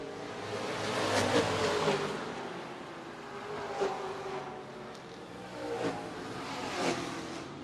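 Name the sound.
race car engine with faulty exhaust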